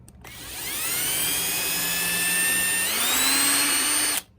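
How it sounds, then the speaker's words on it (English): A power drill bores a hole through a door strike plate held in place, its motor whining up to speed, shifting pitch midway under load, then stopping after about four seconds, close and loud with no voices. "I'm gonna push my drill into it,"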